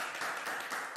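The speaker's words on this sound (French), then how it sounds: "j'aimerais que vous fassiez un tonnerre d'applaudissements pour ces deux personnes" A studio audience claps steadily for two young contestants at a French TV presenter competition, a dense, even patter of applause filling the room without pause.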